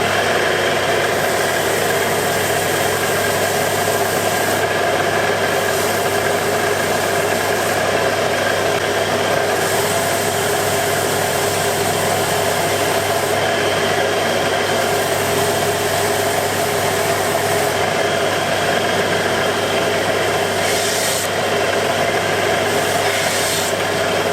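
A homemade budget dust collector built from plastic pipe runs in a woodworking shop, pulling air through holes with a constant loud motor hum and airy rush that stays steady throughout.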